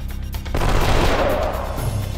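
Gatling gun attack in the Wild Arms 3 video game, a dense, loud burst of rapid gunfire that erupts after a short quieter lead-in and rattles on steadily to the end.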